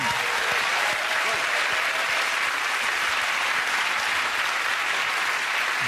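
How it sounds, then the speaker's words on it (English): A television comedy panel show's studio audience applauds loudly and steadily throughout, a dense sustained wash of clapping with no speech. "OK, we have that round of applause."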